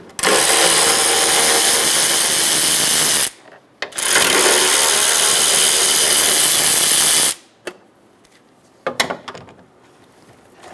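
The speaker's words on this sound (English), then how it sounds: "Remove the two 10 millimeter bolts for the intake." Ratchet or power tool loosening 10 mm bolts on the intake of a 2011-2014 Hyundai Sonata, two loud continuous bursts of several seconds each, followed by a few faint clicks and handling noises, with no talk.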